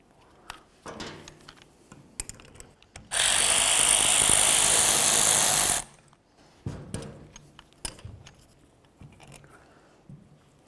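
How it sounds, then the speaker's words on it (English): Caliper bolts being removed from the rear brake of a 2003-2007 Chevy Silverado, with scattered ratchet clicks and metal taps, then one loud burst of an impact gun lasting about three seconds before quieter wrench sounds resume. "we'll continue on by removing these two bolts that hold the caliper to the bracket"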